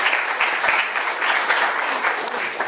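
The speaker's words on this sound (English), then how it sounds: "let's have a round of applause for David." Sustained audience applause at a film festival event, a dense steady wash of many hands clapping loudly with no break, filling the room.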